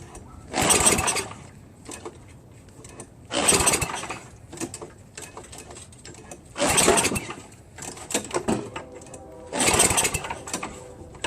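Four recoil pulls crank a Tecumseh 9 HP engine on a Craftsman snowblower, set to full choke, primed and at full throttle. Each pull gives a brief loud whirring sputter with quiet gaps between, and the engine never runs on its own.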